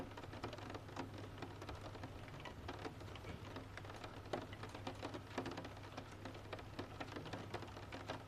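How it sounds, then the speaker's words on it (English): Rain falls at night in a soft, continuous patter with scattered drops ticking close by, faint and steady with no voices. "rain continues drifting endlessly through the dark"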